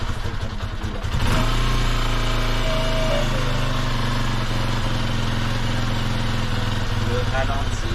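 A Honda XR125L motorcycle engine idles close and steady for several seconds with a rough, slightly uneven putter, a brief surge near the start, and a voice speaking over it.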